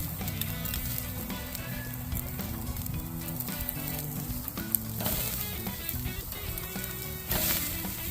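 Prime steaks sizzle over charcoal on a kettle grill, a soft, steady crackle and spit like light rain, close and fairly quiet, with small pops scattered through it.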